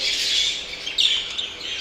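Bright, high-pitched chirping and twittering from a jumbo budgerigar courting another bird, continuous and close, with a sharper burst of chirps midway.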